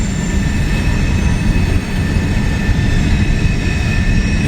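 A long freight train rolls steadily past close by in Hamilton, a continuous heavy rumble of wheels and railcars with a faint high metallic whine running throughout, no voices.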